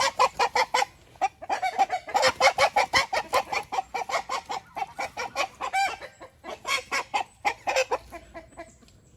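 A chicken clucks and squawks in loud, rapid, agitated bursts while being caught, close up and continuous, with no talking over it.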